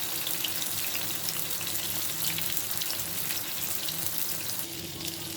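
Pulse pitha dumplings drop into hot oil and fry with a continuous, rushing, watery hiss that stays loud and close, easing slightly toward the end.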